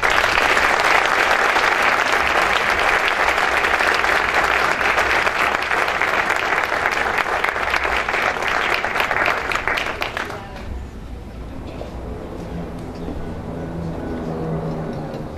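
Audience applause at an environmental cooperation award ceremony, loud and dense for about ten seconds before dropping sharply to a quieter room murmur.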